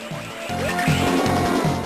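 Short, choppy electronic synth notes from Game Boy Advance game music pulse in a quick repeating pattern with a thin, buzzy tone, like retro video game music.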